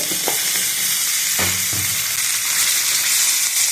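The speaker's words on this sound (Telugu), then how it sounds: "కొద్దిసేపు వేయించుకోవాలి ఇందులోనే వేయించుకోవాలి ఇప్పుడు కొద్దిగా అల్లం వెల్లుల్లి పేస్ట్ వేసుకున్నాను" Ginger garlic paste sizzles and fries steadily in a pan for the whole stretch, with a few soft stirring scrapes near the start and middle; no voices.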